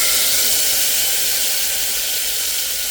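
Lentils poured in small batches into hot oil with fried cumin make a loud, continuous hissing sizzle, steady and close throughout.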